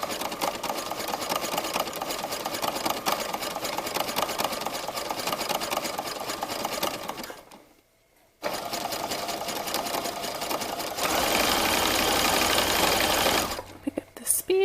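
A sewing machine runs steadily while stitching a sports bra, slowing over a seam, with a continuous mechanical whir that pauses briefly, then resumes slightly louder and faster before stopping.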